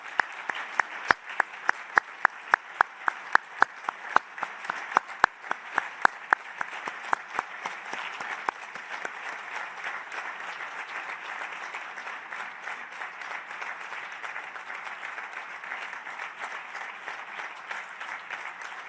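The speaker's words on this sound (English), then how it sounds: "Vi chiedo di tutti insieme fare un grande applauso, un tonnerre d'applaudissements per Filippo Grandi." A conference audience at a UNHCR meeting in Geneva applauds Filippo Grandi, starting with distinct sharp claps that merge into steady, sustained clapping from many hands in a large hall.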